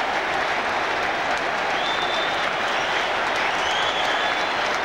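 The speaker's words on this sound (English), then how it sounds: "And Branca takes the applause!" Dense, steady applause from a large football stadium crowd celebrating a goal by a striker making his league debut, a continuous loud roar of clapping with no individual voices standing out.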